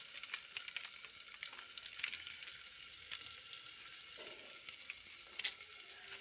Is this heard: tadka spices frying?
yes